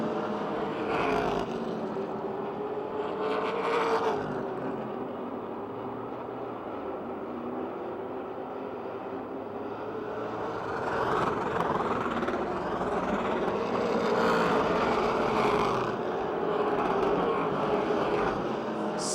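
Race cars roar around Motordrome Speedway, a steady loud engine drone that swells and fades as the cars pass, with a commentator's voice faintly underneath.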